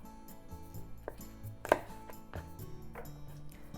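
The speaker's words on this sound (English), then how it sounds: "Green onion. Cut the bottom off." A knife chops green onions on a cutting board: a few distinct cuts through the base of the stalks, with one sharp, loud knock near the middle, close and clear, no talking.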